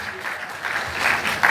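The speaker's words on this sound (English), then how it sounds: "Yes, clap for them." Moderate clapping from an audience at a programme event, uneven and swelling slightly toward the end, with some background voices mixed in.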